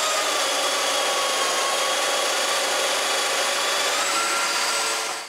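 A power tool cuts a mortise in wood for knock-down joinery, a steady, loud, high whining rush that holds constant for several seconds and then stops abruptly, with no talk.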